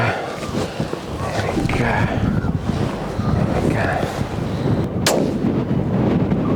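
A rifle shot during a Cape mountain zebra hunt outdoors: a single sharp, loud report about midway, heard over wind noise and voices talking nearby.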